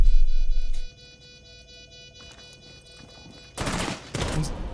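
Gunfire bursts in the video game Rainbow Six Siege: a loud shot at the start, a quiet stretch, then sharp loud bursts of fire near the end, with no talking.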